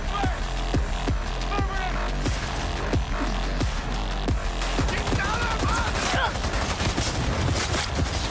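Gunfire crackles in the video game Cyberpunk 2077 as a dense, rapid run of shots and impacts, loud and close, mixed with game effects and music and with a player's voice talking over parts of it.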